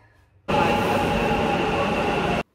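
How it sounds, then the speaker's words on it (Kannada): Bengaluru metro train ride toward Lalbagh: after a near-silent start, a loud steady rumbling roar of the moving carriage sets in abruptly and holds for about two seconds before cutting off. "ಲಾಲ್ಬಾಗ್ವರೆಗೂ ಮೆಟ್ರೋದಲ್ಲಿ ಹೋದೆ"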